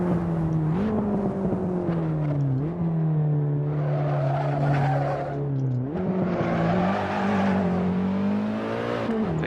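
Simulated BMW E30 M3 in Assetto Corsa with its engine droning steadily and its tires squealing as the back end slides, pitch dipping and rising through the slide, loud and continuous with no voices.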